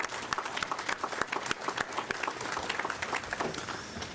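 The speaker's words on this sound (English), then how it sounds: "Let's give our graduates another round of applause." Audience applause for graduates at a GED graduation ceremony, a crisp, fairly close crowd clapping with distinct individual claps over about four seconds.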